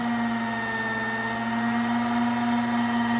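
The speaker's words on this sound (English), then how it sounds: "We are taking a very small cut right here, so I'm going to slow the spindle down." Steady mechanical hum of a milling machine taking a very small cut at slowed spindle speed, a constant drone with a fixed pitch, continuous and close, with no talking.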